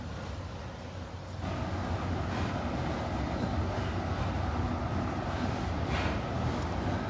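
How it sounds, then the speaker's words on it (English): A Norfolk Southern freight train of roughly 75 to 100 cars passes through a rail cut near Madisonville, Kentucky, as a steady, loud rumble and rolling wheel noise that swells after a quieter opening second and holds without talk. "Train's about 75 to 100 cars long."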